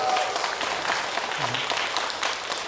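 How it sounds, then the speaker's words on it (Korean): An audience at a Buddhist community lecture event in Seoul breaks into steady, dense applause from many hands, sustained without pause throughout. "큰 박수 한번 부탁드리겠습니다."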